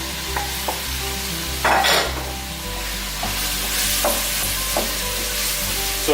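Ground beef for sloppy joes browning in a pan, a loud steady sizzle with a few sharp utensil clicks and scrapes scattered through, close up, with no talk.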